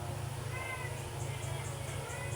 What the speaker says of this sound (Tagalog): Ano yan? Pusa,